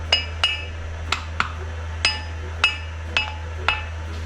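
Dead blow hammer striking metal on a Kubota, seven sharp, ringing hits spaced irregularly about half a second apart over a low steady hum.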